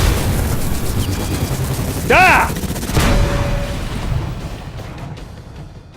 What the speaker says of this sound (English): It was an explosion.